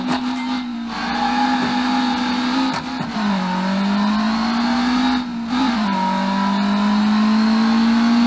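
A video game car engine revs hard and climbs steadily through gears on a quarter-mile run, loud and continuous, with brief dips at each shift.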